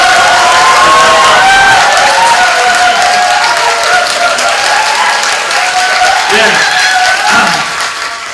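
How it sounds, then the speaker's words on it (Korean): A lecture audience cheers and applauds at length, with dense clapping and whooping voices. The crowd noise is loud and close, holds steady for about eight seconds, then eases off at the end. "제 강의를 듣기 위해서는요, 기본적으로 필요한 게 환호성입니다"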